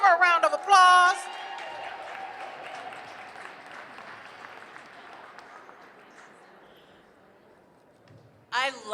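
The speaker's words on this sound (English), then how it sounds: "Give her a round of applause." An audience at a Black Entrepreneurs Day event at the Capitol bursts into applause and cheers as a voice finishes speaking; the clapping fades gradually over several seconds before a voice returns.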